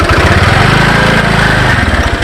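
A motorcycle engine runs steadily and loudly at close range, a low, even idle-like drone with a throaty pulse throughout, no voices over it.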